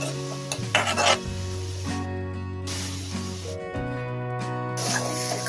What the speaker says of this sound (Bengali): তেল গরম করে সামান্য হলুদ গুঁড়ো আর লবণ দিয়ে বেছে রাখা চিংড়ি মাছ দিয়ে নাড়াচাড়া করে নিচ্ছি।